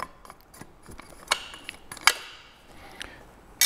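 A chainsaw cover is being removed, giving quiet plastic clicks, ticks and scrapes with a few sharper snaps near the end, close up and sparse.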